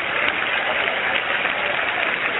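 A church congregation applauds together in a steady, dense wash of clapping that holds evenly throughout, with no talking over it.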